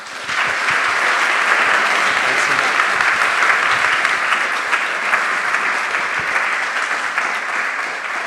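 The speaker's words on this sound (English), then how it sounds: "Can I get a round of applause for Yoseph?" A round of applause for speaker Yoseph West at a tech talk: a dense, steady wash of clapping from a sizable audience that holds evenly for the whole stretch without a break.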